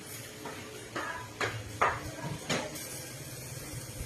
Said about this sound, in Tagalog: Kukunin na natin sa oven yung ulam.